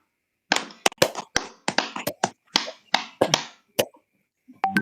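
Rhythmic hand clapping in a morning, noon and night clap game during a facilitator training session, a quick run of sharp claps in groups of one, two and three, close and distinct, ending in a pause.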